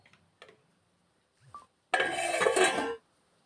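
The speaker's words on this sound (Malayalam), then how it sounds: "നമുക്കിതൊന്ന് തിളയ്ക്കാൻ വേണ്ടിയിട്ടൊന്ന് അടച്ച് വെച്ച് കൊടുക്കാം" A lid goes onto a pot of stingray fish curry to bring it to the boil. A few faint clinks come first, then a sustained metallic clatter about a second long, close by, with no talking.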